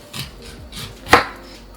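A knife chopping an onion on a cutting board, a few soft cuts followed by one sharper, louder chop, close by and with no talking.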